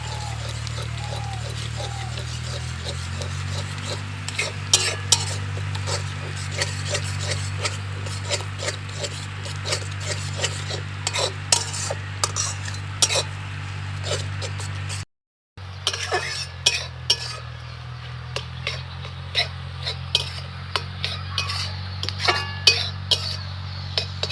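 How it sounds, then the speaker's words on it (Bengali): Eggs frying in a pan for a lentil-and-egg dish, with repeated raspy spatula scrapes and light metallic clinks over a steady low hum, pausing briefly near the middle. "এবার ডিমটাকে দিয়ে ভালো করে একটু ভেজে নিতে হবে।"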